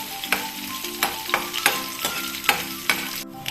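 Green chillies and curry leaves sizzle steadily as they fry in a pan, with a spoon scraping and stirring in a regular rhythm roughly every half second, close and clear with no talk.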